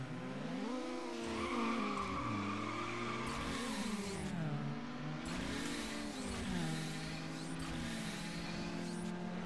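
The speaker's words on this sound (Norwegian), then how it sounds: "Vi startet, jeg nitrusa inn i en annen bil," Nitrous boost and tire squeal in the racing video game Need for Speed Underground, with a steady engine roar, pitch sweeping up and down through gear changes, and screeching tires, loud and continuous.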